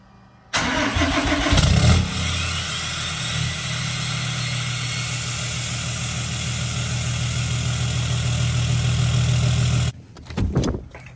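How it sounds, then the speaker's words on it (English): A Cummins diesel truck with a 5-inch exhaust, delete and tune cold-starts, cranking and roaring to life, then settles into a loud, deep, rumbling idle that runs steadily for several seconds before cutting off. "Proper cold start with a 5-inch exhaust, delete and tune."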